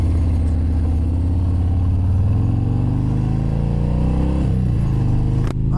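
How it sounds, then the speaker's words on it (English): A 2018 Harley-Davidson Fat Bob with the 107 engine and a non-stock exhaust pulls away, its deep rumble climbing steadily in pitch through the gears, loud and close, with no talk. "let me get this bike back in motion"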